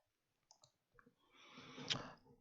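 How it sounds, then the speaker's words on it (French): A few light, close computer mouse clicks land singly and spaced apart, then give way to a louder, broader rustle of handling noise. "Donc, je clique sur mes cours."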